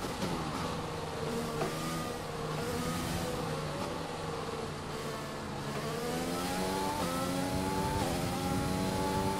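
A Formula 1 car in F1 2020 during training in Japan, running lean with other cars close behind. A loud engine whines up through the revs, with repeated rising sweeps broken by gear changes and no talk.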